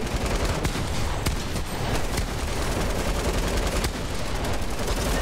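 Rapid gunfire in the Fortnite video game, continuous loud automatic bursts with sharp cracks layered over a dense battle din, no talking.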